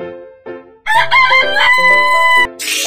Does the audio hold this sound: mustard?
no